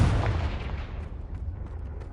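Confringo blasting spell from Hogwarts Legacy bursting in a loud, close boom that rumbles low and slowly decays over two seconds, with no voices.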